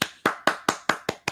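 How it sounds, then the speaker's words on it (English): Seven sharp, evenly spaced hand claps ring out close and loud in a quick steady rhythm, each with a short decay, with no talking. "You need that amen sound clap."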